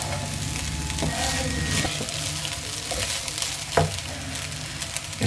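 Cooked rice being stirred carefully with a spoon in a hot pan for restaurant-style Chinese fried rice, a continuous sizzle with scraping strokes and one louder clank near the end.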